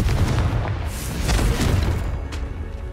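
Confringo fire spell blasts in the video game Hogwarts Legacy, a few booming explosive thumps in quick succession over a dense rumbling bed, loud and close.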